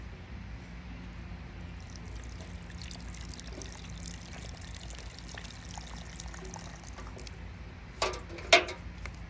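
Water seeping and trickling from wet pulp during papermaking, a faint, steady low wash with a couple of brief louder splashes near the end.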